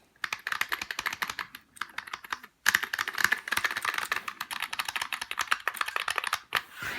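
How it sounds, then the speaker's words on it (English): Fast, continuous typing on a rubber dome keyboard, dense clacky keystrokes with a brief pause midway, close and clear with no talking. "this is a rubber dome keyboard, but it's the opposite principle of Topre. Listen to this."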